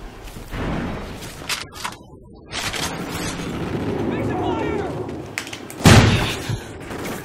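Shotgun blasts in Call of Duty Ghosts multiplayer, including one heavy booming shot near the end, set against busy in-game effects and someone talking over the action.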